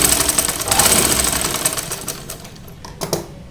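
Sewing machine double-stitching a plain blouse, running loud and close in a fast steady whir that slows and breaks into a few short bursts near the end.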